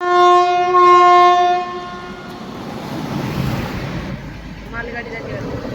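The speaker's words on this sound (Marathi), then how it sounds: "इथं रेल्वे गेट लागलेलं आहे आपल्याला आणि आता मालगाडी चालू होती." A goods train at a railway crossing sounds a long, loud horn, then its wagons rumble and clatter past nearby with a steady rolling roar as a voice talks over it.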